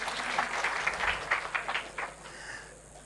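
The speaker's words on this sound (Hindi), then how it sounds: "ताली बजाओ इनके लिए" Audience clapping for a few seconds during a talk about Vande Bharat trains and world-class railway stations, with a dense patter of claps swelling in bursts and fading toward the end.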